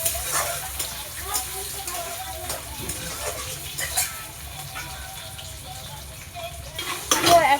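Onion and tomato frying in a pan, a steady soft sizzle with occasional stirring scrapes while someone talks over the cooking.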